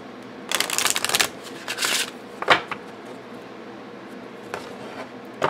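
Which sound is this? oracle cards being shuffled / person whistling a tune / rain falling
oracle cards being shuffled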